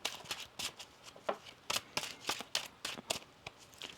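A deck of tarot cards is shuffled in a series of crisp riffling bursts with short pauses between them, close and fairly quiet, with no talking.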